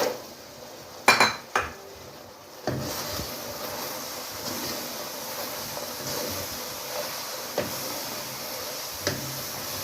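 Lotus seeds (makhana) go into a pan with oil, starting with a couple of sharp metallic clinks and clatters from the pan and utensils, then settling into a faint continuous frying hiss with occasional light taps.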